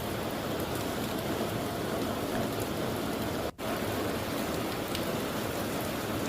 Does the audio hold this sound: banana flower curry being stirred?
no